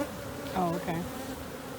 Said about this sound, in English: Oh, worker bee, right?